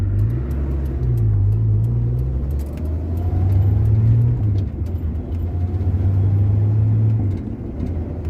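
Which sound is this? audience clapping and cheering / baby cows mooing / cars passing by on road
cars passing by on road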